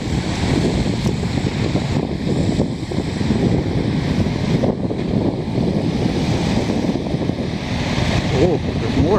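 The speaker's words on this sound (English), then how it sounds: "A little windy." Steady wind buffets the microphone, a continuous low rumble with gusts, over a faint wash of outdoor water sounds in Montreal, Quebec.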